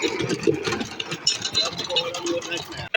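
A tractor engine runs with a steady, close idling chug, partly buried under people talking nearby throughout.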